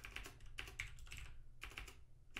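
Quiet, close typing on a computer keyboard comes in short irregular bursts of key clicks with brief pauses between them, and no voices.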